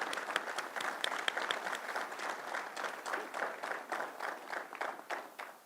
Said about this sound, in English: You can clap, come on, give it up for him.